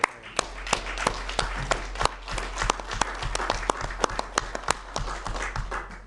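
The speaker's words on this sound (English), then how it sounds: "I think it's worthy of applause" Audience at a marina study session applauding the leadership team, a moderate group of people clapping with distinct individual claps audible in the mix, steady for about six seconds.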